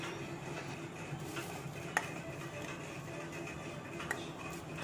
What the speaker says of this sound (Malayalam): ഉപ്പും കൂടെ ആയിട്ട് നമുക്ക് എല്ലാ ഇൻഗ്രീഡിയൻസിനും കൂടെ ബീഫിലേക്ക് ഇടാം